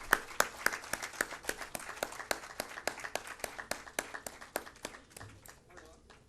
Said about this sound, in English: Applause for her, please.